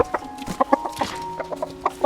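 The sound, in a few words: chicken clucking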